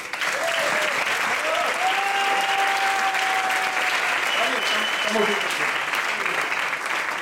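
Loud, steady applause from a crowd at a music master class fills the whole stretch, with a voice speaking faintly underneath.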